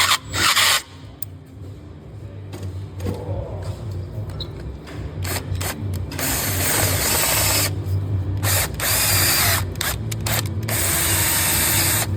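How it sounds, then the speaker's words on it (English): A power drill grinds and rasps a 3/16-inch pilot hole into a broken, corroded exhaust stud on a Ford F-150 in several bursts with short pauses between, close up, with a low motor hum underneath. "I'm going to drill this one up to 3/16."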